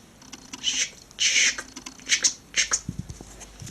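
Bursts of crisp snipping as scissors cut hair, several quick cuts in irregular rhythm, close and fairly quiet, with a soft thud near the end.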